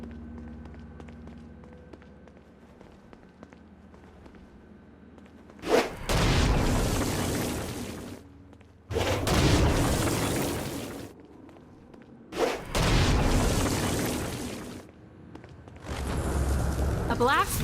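Stone Blast explosions in the video game Saints Row: Gat Out of Hell strike flying demons in three or four loud, roaring bursts, each lasting a couple of seconds and separated by quieter gaps of game ambience.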